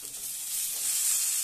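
Bottle gourd stems and greens are stirred into hot oil with frying spices and chili powder for a fish curry, giving a soft, steady sizzle and hiss that swells slightly as the pan is stirred.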